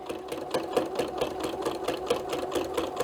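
Sewing machine back stitching at the end of a seam on a quilt facing, a steady rapid mechanical whir with even needle beats, close and alone with no talking.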